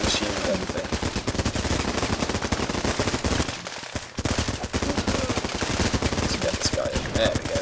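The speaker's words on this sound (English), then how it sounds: "So we've either got this weapon. It's like an assault rifle, machine gun," Rapid automatic gunfire from an assault rifle or machine gun in the video game Running With Rifles, dense and sustained bursts with a brief lull midway.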